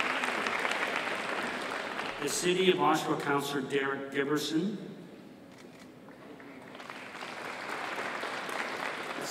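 Brief clapping from the audience rises at a Trent University convocation ceremony after a speaker introduces a city councillor, moderately loud and then fading away.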